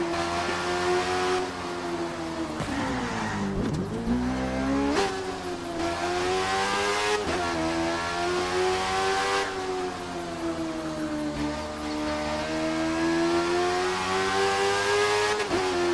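A Kawasaki Z1000 motorcycle engine in the video game The Crew 2 drones steadily, its pitch rising and dipping with throttle changes and gear shifts, loud and close with no talking.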